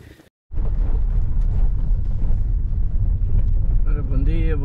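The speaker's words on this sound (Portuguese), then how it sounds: "Vento norte." Strong north wind buffets the microphone on a fishing boat, a loud, steady low roar filling the whole clip after a brief cut at the start, with a faint voice rising near the end.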